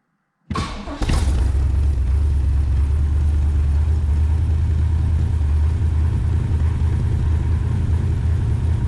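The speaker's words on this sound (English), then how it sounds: "Do a cold start here." After a moment of silence, a 1967 Corvette's 327 V8 cranks on a cold start and catches, then settles into a loud, steady, rumbling idle that continues without pause.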